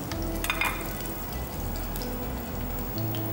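Oil deep frying on a gas stove, a dense continuous crackling sizzle with a low steady hum beneath, close and even throughout.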